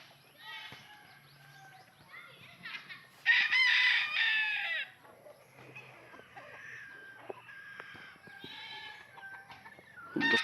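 Several fighting roosters crow loudly in turn on a backyard farm, with hens clucking and other fowl calling around them, and some faint voices in the background.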